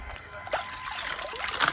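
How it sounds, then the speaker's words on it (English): Water trickling and dribbling out of a WLToys 124019 RC car fitted with oversized wheels, a faint, irregular splashing close by with light speech in the background. "Drain the water out of it."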